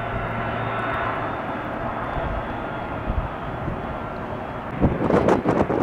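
A single-aisle jet airliner at Tampa International Airport on a chilly day, heard as a steady, loud broadband engine roar close by, with a brief rougher burst near the end.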